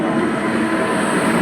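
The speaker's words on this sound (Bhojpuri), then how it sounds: "देखिए ट्रेन आ भी गई" A train passing a railway crossing close by, a loud steady rumble and roar of rolling wagons filling the short moment with no voices.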